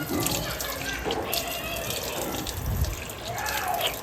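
Tap water splashes steadily as a face is rinsed clean after applying a remedy for dark spots, a close, continuous wash of running and splashing water with faint voice traces underneath.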